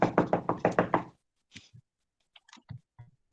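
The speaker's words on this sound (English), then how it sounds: "I heard a knock at the door." Knuckles rap on a door in a quick run of about seven loud, close knocks, followed by faint scattered taps and small sounds in near silence.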